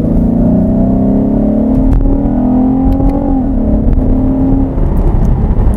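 The engine of a 2020 Chevrolet Camaro, rated at 335 horsepower, revs loud and close with a steady droning tone that rises and falls in pitch and continues throughout.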